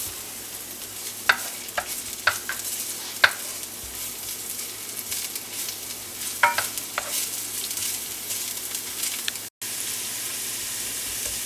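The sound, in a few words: onion frying in a pan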